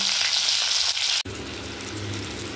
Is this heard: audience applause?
no